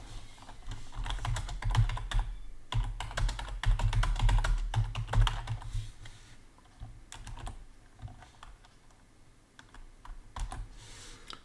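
Rapid typing on a computer keyboard, dense bursts of clicking keystrokes that are strongest early on and thin out into slower, quieter taps toward the end, close up.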